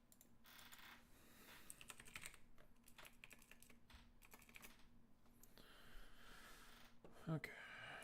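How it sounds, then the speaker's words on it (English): Dense, steady computer keyboard typing and mouse clicking while setting up a game of Skyrim, continuous and close-up over a low hum, with a sharper burst near the end. "It's gonna be a lot of clicking."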